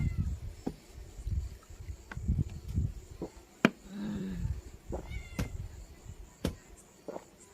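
A cat meows a few times, short nasal cries rising and falling among scattered clicks and rustling, fairly close, with no talking.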